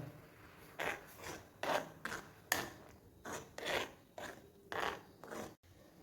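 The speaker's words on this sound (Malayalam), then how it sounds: "ഇനി ഇത് നല്ലപോലെ ഒന്ന് മിക്സ് ചെയ്ത് കൊടുക്കാം" A hibiscus flower, leaf and rice paste mixture being stirred in a pot for a natural hair dye; close, rhythmic rasping scrapes come in about ten distinct strokes.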